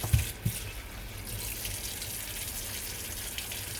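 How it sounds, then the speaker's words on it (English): Tap water runs and splashes while a chicken carcass is rinsed out in a sink, with a couple of brief thuds near the start and then a steady, close gush of water. "I'll just kind of rinse this out."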